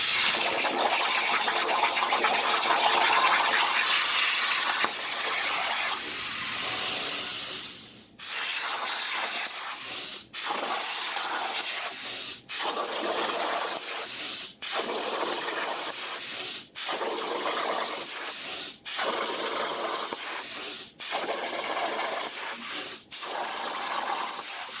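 A CNC plasma table cuts sheet metal with a loud, continuous close-up hiss that breaks off in short regular pauses as the torch moves between cuts.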